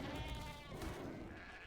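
Sheep in a video game bleat in a short, wavering cry, fairly loud and close against a busy background of game noise, with no talk over it.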